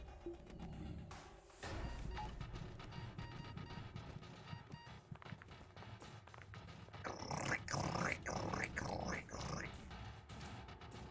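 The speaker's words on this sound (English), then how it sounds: "That rock death sound, man." Rock creature death sound in the video game FTL, a growling, crashing roar that swells loudly near the end, over the game's background audio.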